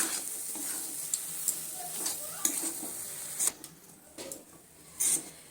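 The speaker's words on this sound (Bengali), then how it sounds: "নাড়তে নাড়তে যখন দেখবো সুজিটা আস্তে আস্তে শুকিয়ে যাবে" Semolina halwa is stirred in a pan, giving a steady soft sizzle broken by scraping strokes of the spoon, close by and fairly quiet.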